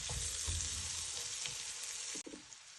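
Onion sautéing in a hot pan gives a steady, close frying sizzle with stirring clatter near the start, then a brief drop and renewed crackle as carrots go in, with no talking.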